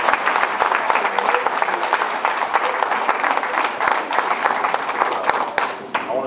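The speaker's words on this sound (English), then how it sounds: "I just want to give them a round of applause" A basketball banquet crowd gives a round of applause: dense, loud clapping from many hands that holds steady throughout and thins slightly at the very end.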